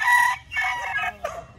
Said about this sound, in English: they don't crow every second, but there's enough roosters so that we hear them all the time